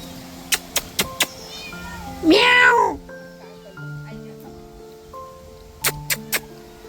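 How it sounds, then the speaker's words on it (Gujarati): Cats at a cat showroom give one clear, drawn-out meow in the middle, set among scattered sharp clicks and faint tonal background sounds. "કેટલી બધી બિલાડીઓ છે, જુઓ તો ખરાબ."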